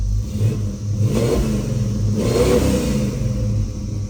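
A deep, rumbling 1971 Chevrolet Chevelle with a 383 stroker V8, performance cam and dual exhaust revs up twice in quick succession, loud and close, with a throaty low growl between the blips.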